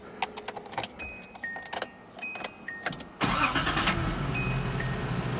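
Datsun 280ZX with freshly replaced battery terminals: keys jingle and a few clicks, then the engine cranks and catches at about three seconds, settling into a steady close idle.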